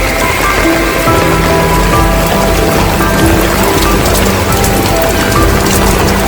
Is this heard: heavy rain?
yes